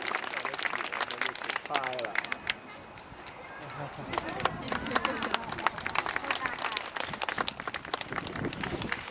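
An audience at an aquarium walrus show claps in scattered bursts, with crowd chatter between, an announcer speaking French over part of it, and the clapping growing denser toward the end.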